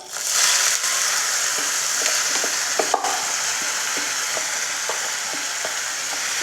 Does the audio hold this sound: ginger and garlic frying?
yes